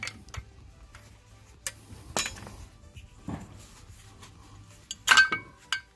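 A screwdriver pries a worn brake pad out of a Jaguar brake caliper, giving a few sparse, quiet metallic clicks and clinks up close, separated by near silence.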